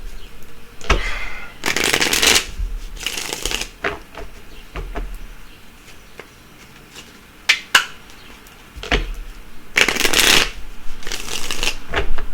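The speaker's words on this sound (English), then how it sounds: "Let me shuffle this and cut it." A deck of tarot cards being shuffled and cut, several quick riffling bursts with soft taps between them, close and clear, no talking.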